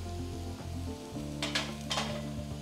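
Garlic cloves and ginger sautéing in a pan for chicken kheema, a steady close sizzle over a low hum, with two brief bursts of stirring scrapes partway through.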